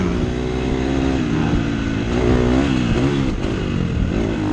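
A KTM 250 SX-F four-stroke motocross bike on the Rivarolo motocross track on a hot day, its engine droning and revving continuously and loudly close by, with rising and falling pitch as the throttle changes.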